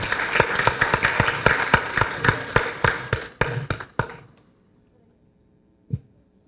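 Audience applause at a criminal-justice seminar welcoming a distinguished guest speaker, a dense burst of claps that thins out and stops after about four seconds, leaving near silence with one stray thump.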